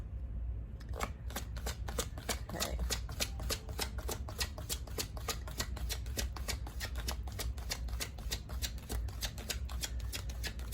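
Rapid, steady riffling of tarot cards being shuffled repeated throughout, a dense crackling flutter close by, with a brief spoken word near the start.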